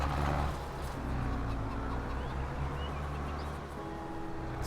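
Farm fowl in Farming Simulator 22 give a dense, continuous chorus of clucking and honking calls that stays fairly loud and steady throughout, with no talk over it.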